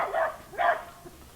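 A dog in a park gives two sharp barks close by, followed by a faint softer yelp, with no voices.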